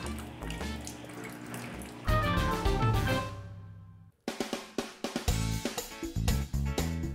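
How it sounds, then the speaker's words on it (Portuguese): Water runs from a filter tap and down a drain, a continuous splashing stream that briefly drops off partway through and then resumes with uneven spatters. "Esse tanto de água aí indo pro ralo?"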